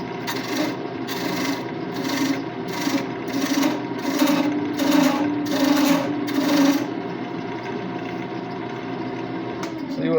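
Thread chaser cutting threads into turning wood on a lathe, a series of rhythmic rasping scrapes in regular bursts over a steady motor hum, then the cutting stops and only the hum remains.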